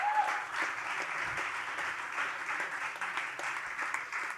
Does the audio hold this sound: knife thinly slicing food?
no